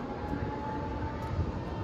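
An Irish Rail train rolls past a railroad crossing at Bray beside the Irish Sea, giving a steady, fairly quiet broadband rumble that holds without a break for the whole stretch.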